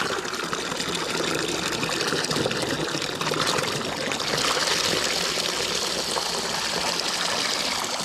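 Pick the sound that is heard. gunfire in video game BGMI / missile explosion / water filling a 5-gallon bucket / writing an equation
water filling a 5-gallon bucket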